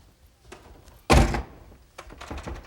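A backstage door at a 1994 WWF wrestling venue thuds shut in one heavy, close impact, framed by fainter knocks and shuffling before and after.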